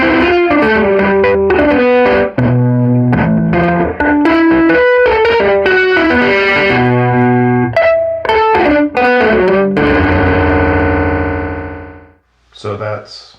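An electric guitar run through a Proxima effects pedal produces a glitchy, unnatural sustain, with choppy stuttering chords that hold and then cut off abruptly, loud and up close.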